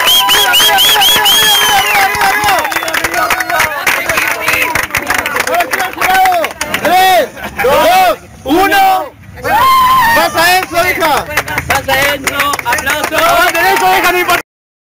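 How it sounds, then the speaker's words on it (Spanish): Crowd at a Spanish-language freestyle rap battle erupts in loud, dense cheering and clapping that fills the whole stretch, with brief dips before the noise surges again, mixed with shouting voices. "¡Aplausos, gente!"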